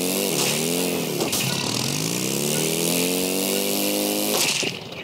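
A motorcycle engine runs loud and close, a buzzing, steadily rising drone with a couple of sharp blips and a dip near the end.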